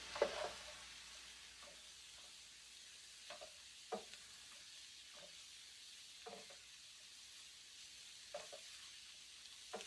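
Vegetables and Thai hot red chilies for turkey chow mein sizzle steadily in a pan, with a soft, spaced scrape or clack from the stirring utensil every second or two over the continuous frying hiss.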